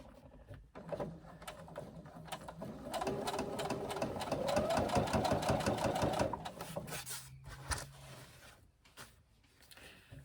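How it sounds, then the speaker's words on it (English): A sewing machine stitches across the bottom seam of a backpack with a 3/8 inch allowance, its rapid mechanical needle chatter building into a steady run for several seconds, then slowing and stopping, close and moderately quiet. "using 3/8 inch seam to stitch across the bottom"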